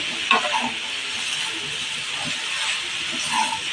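Sliced mushrooms with a little masala stirred and fried in a pan for mushroom gravy, a close, steady sizzle with scraping strokes of a spoon and a few light clinks, no talk.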